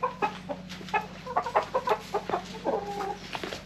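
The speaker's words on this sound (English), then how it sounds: "A bunch of chickens" Several chickens cluck in quick, overlapping bursts over a low steady hum, fairly close and moderately loud.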